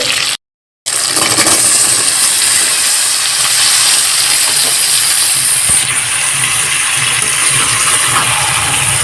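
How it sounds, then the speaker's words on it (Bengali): Young jackfruit goes into spice paste frying in oil, setting off a loud, continuous sizzling hiss that holds steady after a brief silent gap near the start. "এখন আমি কাঁঠালের ইঁচড়টাকে ঢেলে দেবো"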